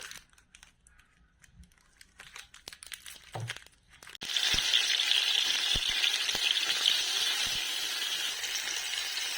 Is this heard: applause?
no